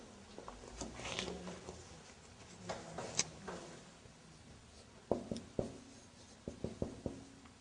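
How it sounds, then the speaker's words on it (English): Someone writes by hand during an Arabic language lesson: soft scratchy strokes in irregular bursts, faint and close, with brief pauses and sharper taps near the end. "Maybe I should write it."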